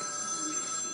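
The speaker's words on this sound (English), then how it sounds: "is it a different ring? No. It's usually the house phone." A house phone rings at home, a steady electronic trill filling the whole moment, close and clear with no voices over it.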